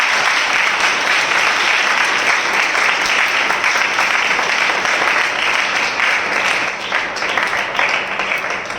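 Loud, sustained applause from a congregation at a Hindi-language Christian spiritual gathering, a dense steady roar of clapping that holds for the whole stretch and eases slightly near the end, with no talking.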